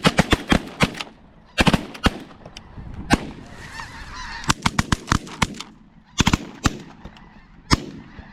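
Repeated shotgun blasts in sharp volleys during a snow goose hunt in North Dakota, loud and close, firing in bursts over a constant din of honking geese from a large flock.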